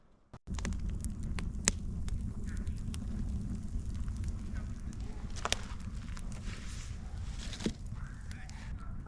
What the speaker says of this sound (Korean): 캐빈 앞에서 캠프파이어를 즐기고 있습니다